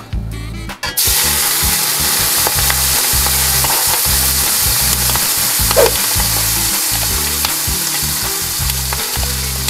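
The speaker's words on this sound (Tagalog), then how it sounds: "Piprituhin muna natin siya dito sa ating sobrang init na wok" Pork sears loudly in a very hot wok, a dense roaring sizzle that bursts in after a brief clatter and holds steady throughout, close by, with faint scraping and pops and no voices.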